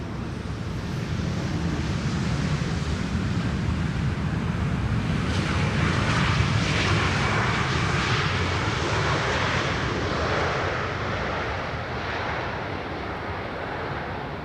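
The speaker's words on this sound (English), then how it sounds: "SAS Flight 1553 arriving" An SAS airliner arriving at Amsterdam Schiphol's runway 18R roars past with a broad, steady jet rush that swells to a peak midway and slowly fades, with no voices.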